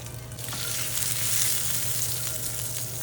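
Egg masala frying in a pan while being stirred, a continuous bright sizzle with soft stirring scrapes, close and steady, without any talk.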